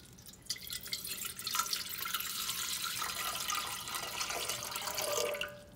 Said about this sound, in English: The first one is water. Okay, so can you pour that into the baking pan?